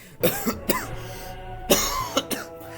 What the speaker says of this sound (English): As you can tell, I've been coughing a lot.